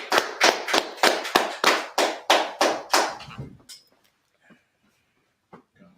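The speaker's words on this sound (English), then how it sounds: "Everybody clap that up." A congregation claps in unison, about a dozen loud, even, rhythmic claps close by, then the clapping stops and a few faint voices and small sounds follow in a quiet room.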